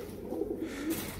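Pigeons kept by a fancier coo softly in a short, low, warbling burst close by, with no talk over them.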